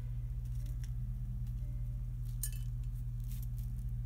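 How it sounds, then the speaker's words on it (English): Dehydrated orange slices snapped and crumbled into smaller pieces for incense, a few faint brittle cracks and crackles over a strong low steady hum. "So I'm just breaking them up in smaller pieces."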